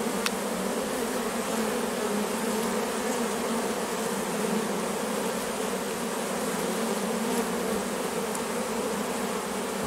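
A large honeybee swarm hums in a steady, dense drone that stays close and loud the whole time, with bees dancing on the comb and no voices present.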